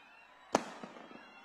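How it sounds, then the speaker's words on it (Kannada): A string of a thousand firecrackers goes off at a film trailer launch event, one loud sharp crack followed by a few fainter pops over a background crowd hum. "ಇದು ಸಾವಿರ ಮಾಲೆ ಪಟಾಕಿ ಹೊಡೆದ ಹೊಡಿತಾನೆ ಇದ್ದೀರಾ"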